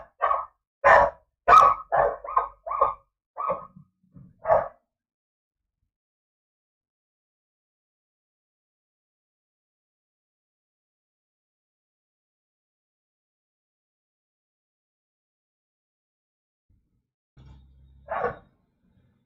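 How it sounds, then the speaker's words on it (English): A dog barks in a quick burst of several sharp barks, close and loud, then falls quiet for a long stretch before one more bark near the end. "I guess there is some human with some other dog. That's why he's barking."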